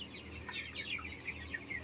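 Broiler chickens clucking and cheeping inside a closed-house poultry barn, a steady, overlapping chatter, fairly close, with a low hum underneath and no talking.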